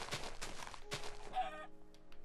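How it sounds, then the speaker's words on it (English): A chicken in Minecraft clucking in a few short, sharp repeated calls, close and fairly clear, followed by quieter game sounds. "Actually, I saw a chicken here too."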